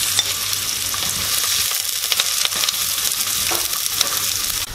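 Onion, garlic and shallot fry in vegetable oil for a Guyanese beef patty filling: a loud, continuous sizzle with faint stirring scrapes mixed in throughout, no voices.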